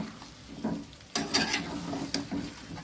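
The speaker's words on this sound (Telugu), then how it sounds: "ఇది శుభ్రంగా మొత్తం ఈ చికెన్లో కలిసేటట్లు ఒక్కసారి తిప్పేసుకొని" A spatula stirs chicken fry in a pan with a soft background sizzle, a few scraping strokes and clattering bursts standing out near and clear, no voices.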